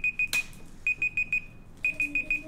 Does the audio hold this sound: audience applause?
no